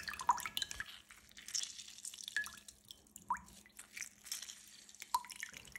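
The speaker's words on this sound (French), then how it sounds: "je presse le jus d'un demi-citron pour apporter de la fraîcheur" Half a lemon squeezed by hand for a sweet-and-sour shrimp sauce, giving faint scattered drips and small wet squishes in a quiet kitchen.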